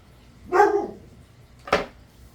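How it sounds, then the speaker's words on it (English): A dog barks twice, close by, with a short gap between the two barks and quiet background otherwise. "Sorry for the dog barking"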